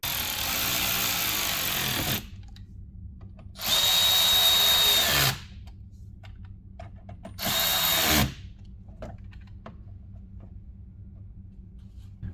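Power tool tightening mud flap mount bolts on a 2019+ Chevy Silverado 1500, three loud, close whirring bursts of a few seconds each separated by quiet pauses, no talk.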